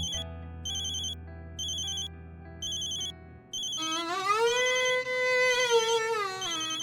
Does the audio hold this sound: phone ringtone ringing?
yes